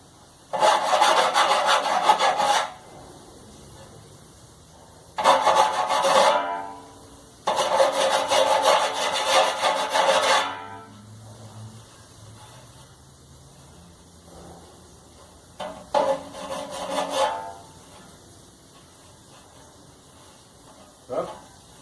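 A clothes dryer gives off loud scraping, rubbing bursts in uneven stretches of two to three seconds, with quieter gaps between them where a voice speaks.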